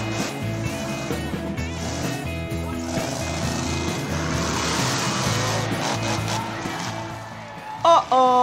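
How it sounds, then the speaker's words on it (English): A monster truck roughly 12 feet tall drives with a loud, steady engine roar that fills the whole stretch, and a couple of sharp louder bursts come near the end. "now let's watch some monster trucks"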